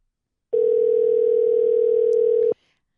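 A telephone dial tone sounds as a call is placed back, one steady, loud electronic hum lasting about two seconds before it cuts off abruptly.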